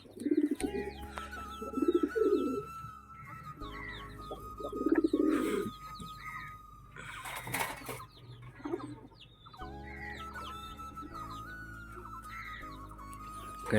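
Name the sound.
pigeons cooing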